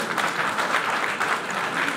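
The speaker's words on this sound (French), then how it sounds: "Alors, les applaudissements sont timides." Applause from an audience, a steady wash of many hands clapping at moderate strength without any break for two seconds.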